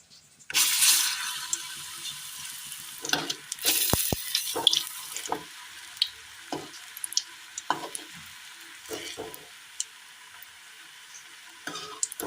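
Steady hiss of snack balls deep frying in hot coconut oil, with a louder crackling burst as they drop in, then scattered pops and clinks of stirring.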